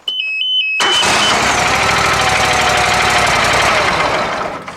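A few short electronic beeps, then a Walker MTGHS mower's small engine catches on a newly replaced starter and runs steadily, loud and close, with a rough, busy rumble.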